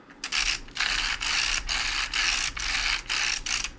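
Kochblume ratchet grinder working on its fine setting, a close, loud run of rasping ratchet strokes in a steady rhythm, about eight bursts separated by brief gaps, with no talking.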